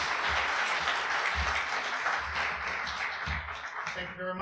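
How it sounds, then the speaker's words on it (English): A lecture audience gives a warm round of applause for a presenter, steady dense clapping at moderate volume with faint low rumbles, tapering slightly near the end. "please join me in a round of applause for Dr. David Pilgrim"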